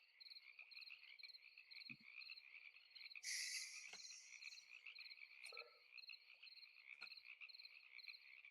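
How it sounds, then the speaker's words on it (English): Frog in a Minecraft-style survival game world, a weird, strange-sounding creature giving a few short croaks over a faint steady chirping background, with a brief brighter burst in the middle. "It's a weird sounding frog."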